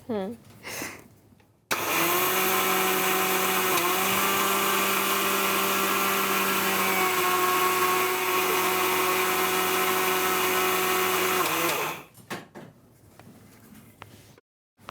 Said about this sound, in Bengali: একটা করে ইনগ্রেডিয়েন্টস যোগ হবে এবং ব্লেন্ড করতে হবে